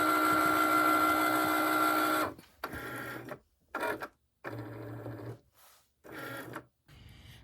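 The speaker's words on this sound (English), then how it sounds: "now I am ready to put it into my Cricut to start cutting" A Cricut cutting machine slices thick plastic material in bursts, a loud sustained whir followed by a series of short stop-start motor runs separated by brief silences.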